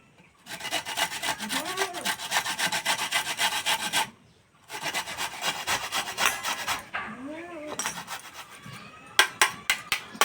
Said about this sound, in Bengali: আর ঠিক এইভাবে সরু সরু করে গ্রেট করে নিতে হবে।